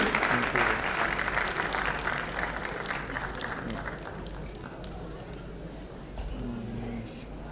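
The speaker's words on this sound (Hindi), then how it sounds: "जोरदार तालियां." At a film award ceremony, an audience gives loud, dense applause that stays strong for several seconds, then gradually thins toward the end while faint speech and background sound carry underneath.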